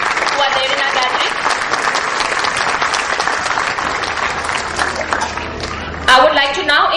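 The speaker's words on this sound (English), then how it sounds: "May we have a huge round of applause for all the management members and the eminent dignitaries who are there in our gathering." Loud, sustained applause from an audience at a school event, a dense, even wash of clapping that swells briefly near the end.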